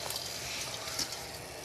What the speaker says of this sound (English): Okay, so the water's boiling in here,